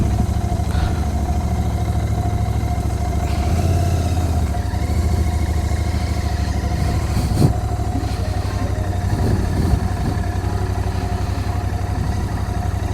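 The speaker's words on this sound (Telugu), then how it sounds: "మనం బండి అయితే స్టార్ట్ చేసేసాం." A Royal Enfield GT 650 motorcycle, already started, idles steadily with a low, even twin-cylinder rumble and light mechanical clatter, close and loud throughout.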